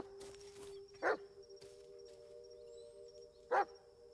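A dog in the Blair Witch video game barks twice, two short, fairly distant barks spaced a few seconds apart over a steady low ambient hum.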